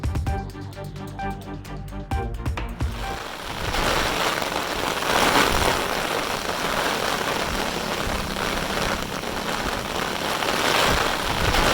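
Heavy rain pours down in a dense, hissing wash that sets in after a few seconds of other sound and keeps up loud and steady to the end.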